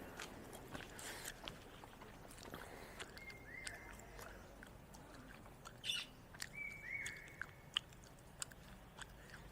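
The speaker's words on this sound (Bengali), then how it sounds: "ওই যে ছোট্ট একটি পাখি" Faint, scattered chirps from a small bird in a pine forest at Dow Hill, Kurseong, a few brief thin calls over quiet outdoor ambience with light rustling.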